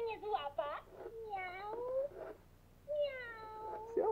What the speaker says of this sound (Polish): Tak miauczy.